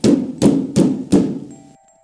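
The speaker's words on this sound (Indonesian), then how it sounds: "Pintu itu dipukul dengan sangat keras, seakan ada yang ingin mendobraknya." A door pounded very hard from the outside, as if someone were trying to break it down: four loud, evenly spaced heavy thuds, close and resonant, followed by a faint thin tone.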